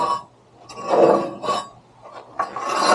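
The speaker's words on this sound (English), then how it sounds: "then I'm going to do my scrape pass on here" A metal scraper with a curved end drags ash across the firebox floor of a Portage & Main outdoor wood boiler, giving close, loud rasping strokes in several pushes with brief clinks between them.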